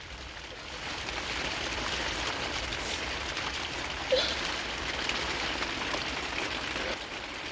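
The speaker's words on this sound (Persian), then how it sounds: "خیلی بارون وحشتناکه." Heavy rain pours down in a dense, steady hiss, loud and constant throughout, with one brief knock partway through and no talking.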